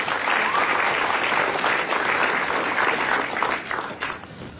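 A crowd claps for a stand-up comedian on stage, dense and sustained applause that holds steady and then thins slightly toward the end.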